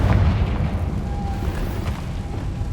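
A Confringo fire spell explodes in Hogwarts Legacy, a deep rumbling boom with a heavy low-end burst that decays into a sustained roar over a few seconds, loud and close.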